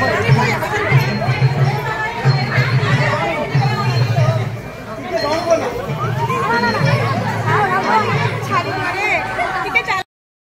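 A large crowd chatters steadily at a busy dance performance venue, with dense overlapping voices and occasional shouts forming a loud, continuous babble.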